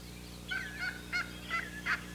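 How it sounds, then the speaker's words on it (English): Wild turkey calls, a series of five short, distinct calls spaced roughly evenly over two seconds, moderately loud against a quiet outdoor background with a low steady hum. "Wildlife biologists have identified over 24 different calls that turkeys make."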